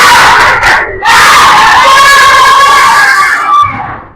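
A primary school class of children shout a loud group cheer in unison, a brief burst followed by a long sustained chorus of young voices, close and loud in a classroom.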